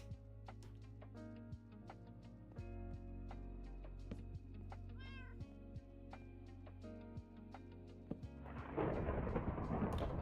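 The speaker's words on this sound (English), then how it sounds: "It's like always raining in my world," Rain and thunder in a video game world, a low rumble of thunder under steady pattering rain, quiet and distant, with a louder burst of rain toward the end.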